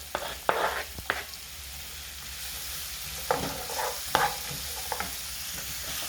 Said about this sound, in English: all this is going to be stir cooked, so right away I'm also adding the carrots.